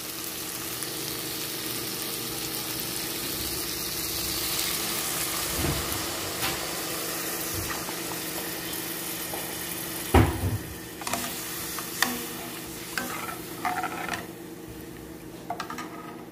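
Tucunaré fish cooking in a pot with seasonings gives a steady sizzling, frying hiss throughout, with a few clinks of utensil against the pot toward the end.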